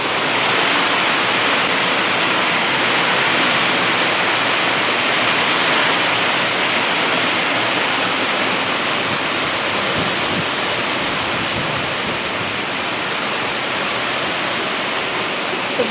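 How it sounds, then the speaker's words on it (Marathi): Heavy monsoon rain pours down in a village during a power cut, a loud, dense, unbroken roar of water lasting throughout with no voices. "खूप जोराचा पाऊस आहे"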